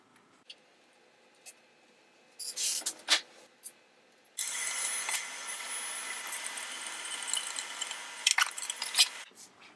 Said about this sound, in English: I have to install the screws that hold the Super EQ back on here.